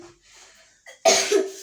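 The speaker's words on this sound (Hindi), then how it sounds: "जस्ट अभी अभी आया है और खांसता हुआ आया है।" A child coughs at home: one short, loud, close cough bursts out after quiet breathing and a faint throat sound, followed by a brief second rasping push.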